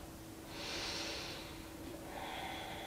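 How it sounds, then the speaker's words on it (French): A long, slow exhale during a back-stretching exercise, a soft airy breath rising for about a second, then a fainter second breath near the end, close and quiet with no talk. "Expire."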